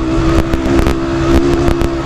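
A motorcycle engine revs hard and then drops off as it downshifts from high RPM, with a loud, steady mechanical drone broken by repeated sharp bursts.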